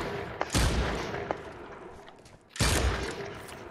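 Gunfire in the zombie video game Dead Island 2: two loud, sharp shots about two seconds apart, each a sudden burst with a lingering decaying tail over a busy game background.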